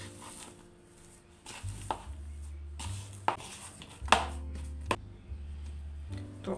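Cookie dough with cornstarch and vanilla essence is mixed in a bowl, giving soft irregular scraping and knocking thuds, fairly quiet and close, without talk.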